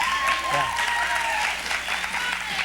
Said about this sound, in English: They don't know what they're clapping at.